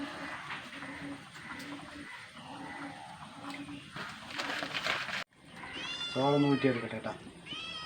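A cat meows clearly and close by near the end, after a stretch of people talking amid household background noise.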